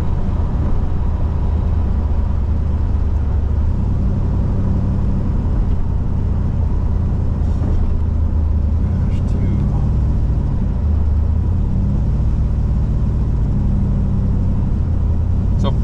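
A boosted 408 engine rumbles loud and close, with the throttle briefly touched so the low growl swells and settles back toward idle, steady throughout.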